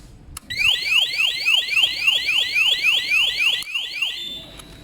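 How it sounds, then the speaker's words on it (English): A Triumph TT600 motorcycle alarm wails in a fast, repeating electronic warble, loud and close, cycling a dozen or so times before cutting off abruptly, with no voices. "The alarm works."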